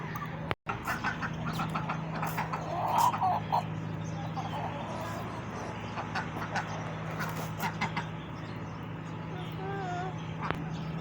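Turkeys in an enclosure gobble and call intermittently, moderately near, over a steady low hum and outdoor background noise, with a sharp thump near the start.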